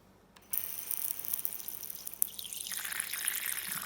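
Water pours into a tarantula's water bowl, a thin steady trickle that starts sharply and runs on close by, growing slightly brighter toward the end.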